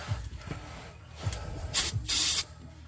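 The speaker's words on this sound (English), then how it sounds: "So we'll take our 5th can of brake clean here" Brake cleaner hisses from an aerosol can in short bursts during 1979 Chevy C10 transmission repair work, a couple of brief sprays then a longer blast, up close among soft rubbing sounds.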